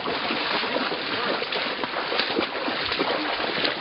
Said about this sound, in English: Hey, don't splash the camera.